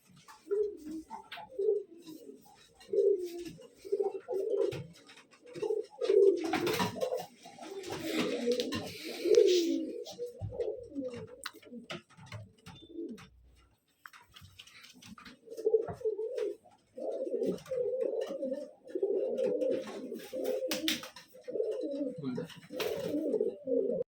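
Tournament pigeons for sale in Bengaluru coo in repeated low, throaty bursts close by, with a brief lull midway before the steady cooing resumes.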